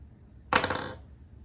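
A small extractor pin being pushed out of an AR-15 bolt from a Delton DTI rifle, giving one brief sharp metallic click and short jingle, close and clear, in a quiet room.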